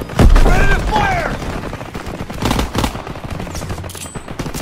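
Call of Duty WWII battlefield with bursts of rifle and machine-gun fire and heavy booms, loud and close, while soldiers shout over the shooting.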